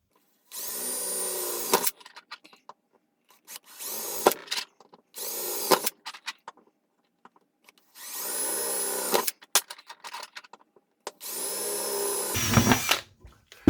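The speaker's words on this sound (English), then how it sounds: "I'm going to drill an 1/8 inch hole at each of these dents" A power drill whines in five short bursts, boring 1/8 inch holes in a copper rod, separated by pauses, each a few seconds long, with small clicks and handling sounds between them.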